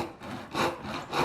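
A dovetail saw cuts through a UHMW plastic dovetail on a dresser drawer stop, making close, steady back-and-forth rasping strokes in a quick rhythm with no voices.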